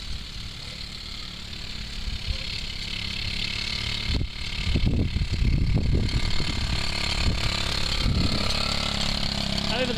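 A Honda Z50R minibike engine runs steadily throughout, a low continuous drone that swells louder in the second half with bursts of revving, while people talk and cheer in the background.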